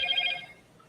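A phone rings or chimes with a short, bright, trilling ring that fades after about half a second, faint against a quiet room.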